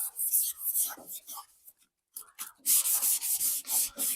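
Hand sanding on a Volkswagen Beetle body panel during restoration, block-sanding out 320-grit scratches: steady rasping strokes, close and fairly loud, pausing briefly midway before resuming in long continuous passes.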